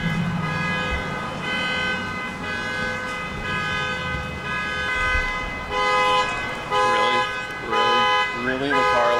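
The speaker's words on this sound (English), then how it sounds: "The car alarm goes off while we're trying to film right here" A car alarm blares nearby in a loud, repeating electronic pattern. Its tone warbles and sweeps while people talk over it.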